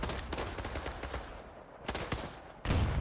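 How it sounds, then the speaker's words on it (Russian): Rapid bursts of gunfire crackle in the World War II shooter game Days of War, followed by a heavier, deeper anti-tank gunshot near the end, all fairly close and sharp. "Противотанковый выстрел, да?"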